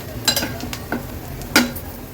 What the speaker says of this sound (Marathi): वाटण पण तेलावर छान परतून घेते